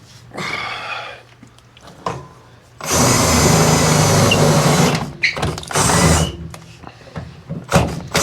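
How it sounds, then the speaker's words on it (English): A power drill whines loudly in two sustained bursts drilling pilot holes on a '59 Apache truck, with quieter tool noises and clicks between them. "So I'm just drilling some pilot holes."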